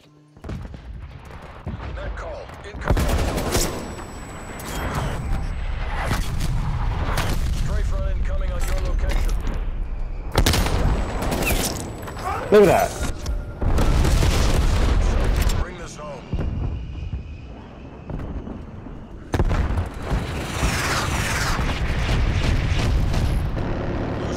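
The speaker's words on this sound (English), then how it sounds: "Artillery targeting detected." Artillery strike in Call of Duty: Black Ops Cold War, with long stretches of heavy rumbling booms and blasts that come in clustered waves, mixed with gunfire and occasional talk.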